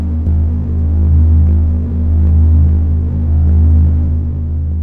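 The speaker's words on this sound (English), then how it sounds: "It's the sound of a star." Signals from a star picked up by a telescope and converted into sound form a steady, loud low throbbing hum with a deep rumble that swells and eases slightly throughout.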